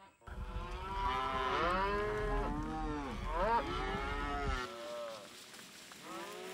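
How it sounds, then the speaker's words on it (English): Cattle on rangeland moo loudly and near, one long drawn-out bellow after another with rising and falling pitch, followed by a quieter moo after a brief drop. "I move my cattle every day."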